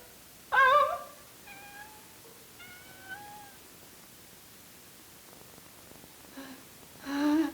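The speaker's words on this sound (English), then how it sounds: "Do you own a cat, Eve?" A cat meows twice near the start, followed by a few softer plaintive mews, then a louder meow at the end over a faint hiss.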